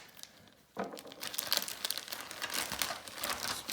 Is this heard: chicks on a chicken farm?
no